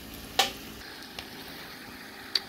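Chicken wings sizzle in a cast iron pan on a wood stove, a steady soft frying hiss broken by a few sharp pops and spatters.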